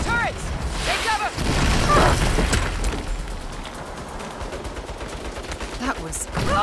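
Heavy turret gunfire in the Saints Row video game, loud rapid bursts and booming impacts packed densely across the scene, with chaotic shouting and effects layered underneath.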